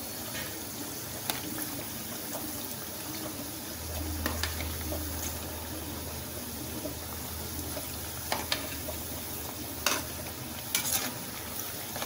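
Masala vadai fry in hot oil with a soft, continuous sizzle and bubbling, and a few sharp clicks and scrapes as they are moved and turned over; no voices.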